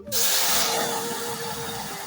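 Turmeric splashed into hot oil in a pressure cooker while making dal, giving a sudden loud hiss and sizzle that starts abruptly and holds steady, nearby and alone.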